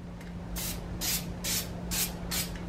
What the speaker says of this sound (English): So I just have some adhesive spray